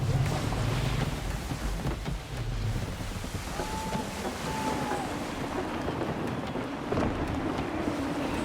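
Gusty wind rushing over a sailing ship at sea in Assassin's Creed 3, a steady roar with waves and creaking beneath, continuous throughout.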